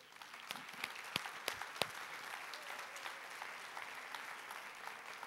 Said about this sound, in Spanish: ¿Le podemos dar un aplauso a la Miriam?